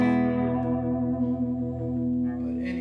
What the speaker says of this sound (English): it has a boingy, springy sound